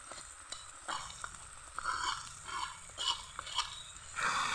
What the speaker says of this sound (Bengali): ভালো করে নেড়ে নেব। মশলা ভালোভাবে কষানো হয়ে গেছে।